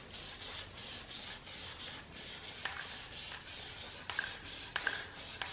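Plastic dip coating sprayed from an aerosol can onto a car grill, heard as steady hissing bursts with brief pauses between passes and a few small clicks, close and fairly quiet.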